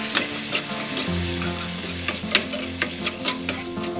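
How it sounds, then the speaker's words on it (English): Tomato and onion paste is stirred in a frying pan, giving a soft steady sizzle with scraping stir strokes and sharp clinks of the utensil against the pan, mixed with faint musical tones. "Now add the tomato and the onion paste. Mix them well."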